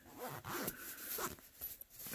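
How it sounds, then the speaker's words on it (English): A zipper is pulled closed on a buckwheat neck pillow in several quick, close-up raspy strokes, fairly loud, with no talking. "Zip it back up."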